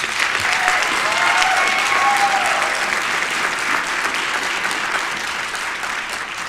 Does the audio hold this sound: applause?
yes